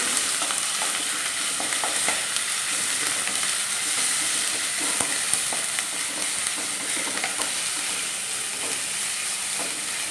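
Lemon pickle paste sizzles and fries steadily in hot oil in a pan, a dense continuous crackle with occasional scraping stirs, close and fairly loud with no talking.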